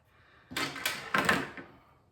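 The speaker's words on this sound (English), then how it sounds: "take out this little drawer, has all my garlic in it" A small kitchen drawer holding garlic is pulled open, giving two or three close, brief wooden scraping slides in quick succession, followed by a quieter scuff as it settles.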